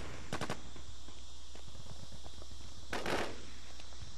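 Short bursts of gunfire from the video game War Inc Battlezone: a quick volley early on and another brief burst about three seconds in, over steady background noise.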